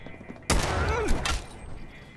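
A sudden loud volley of gunfire erupts in a Fallout 4 firefight, a dense burst of shots with rumbling echoes that fades over about a second and a half.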